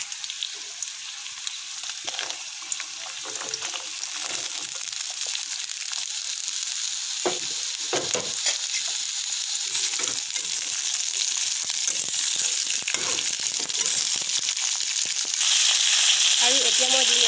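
Drumstick pods go into a hot pan of oil, which sizzles and crackles steadily, louder after a few seconds, with stirring scrapes and a brief brighter burst near the end, no talk.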